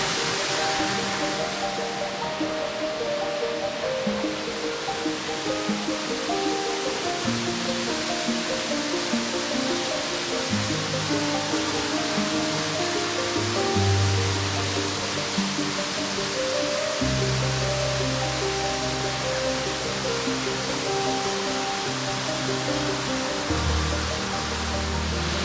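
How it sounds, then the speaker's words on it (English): Rushing waterfall roaring steadily and loud, a dense continuous wash of falling water with low tonal swells shifting underneath, no voices over it. "Well, that's the falls"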